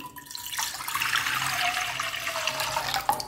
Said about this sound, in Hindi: यहाँ पर एक पैन के अंदर मैं 4 गिलास पानी डालूंगी